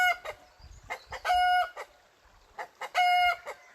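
Two loud, nearby rooster crows, each preceded by short clucking notes, with a pause between them.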